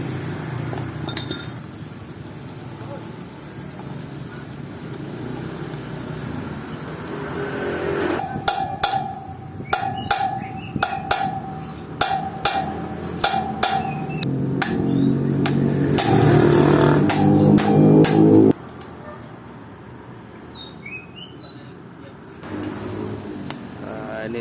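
A hammer strikes an iron bar over and over in sharp metallic clinks to loosen the brake disc on a Kawasaki KLX motorcycle in a repair shop. The blows come in irregular bursts across the middle of the clip, against workshop noise.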